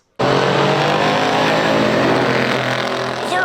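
A 1968 Hurst/Olds muscle car roars at the Pure Stock drag races, its engine revving loud and steady for several seconds after an abrupt start, with no break in the continuous rumble.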